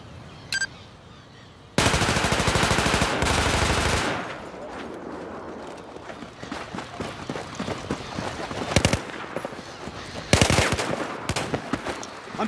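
Gunfire in the video game Battlefield 4 comes as loud bursts of automatic fire and scattered single shots over several seconds, with quieter stretches of distant shots and battle noise between the heavy volleys.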